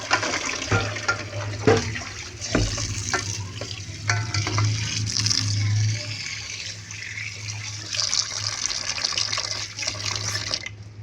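Tap water runs into a kitchen sink during washing up, a steady splashing hiss broken by clinks and knocks of dishes for about eleven seconds. No one speaks.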